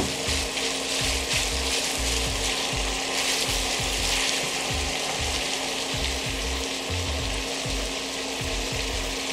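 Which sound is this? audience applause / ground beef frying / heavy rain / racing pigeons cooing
ground beef frying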